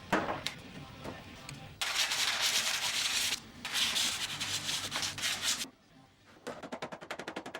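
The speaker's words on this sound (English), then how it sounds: "I switched over to some sandpaper on a block and really fine-tuned it" Hand sanding the breadboard end of a large spotted gum dining table with sandpaper wrapped on a block, heard as loud, steady abrasive rubbing strokes in long bursts, with short pauses between passes.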